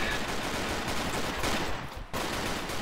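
A video game shooter fires rapid, continuous bursts of gunfire, loud and close, with a brief pause near the end before the shooting resumes.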